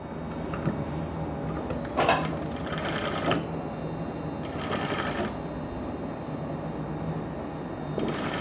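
A sewing machine stitches along the margin of elastic-back trousers with a front belt, running steadily with short bursts of faster stitching, close and fairly quiet, with no voices.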